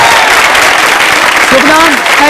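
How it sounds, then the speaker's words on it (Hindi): A college quiz-show audience at a women's polytechnic claps loudly in a short, dense burst, with a voice speaking briefly over the applause. "तालियां बजा दो जोरों से"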